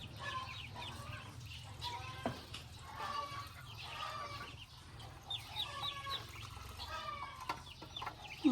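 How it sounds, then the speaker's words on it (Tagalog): Ducks kept in a yard behind a room, without water, give scattered quacking calls at middle distance over a steady low hum of background noise. "Tapos sa likod niya is mga pato."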